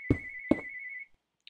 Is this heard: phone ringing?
yes